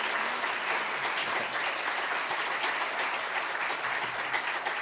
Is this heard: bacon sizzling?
no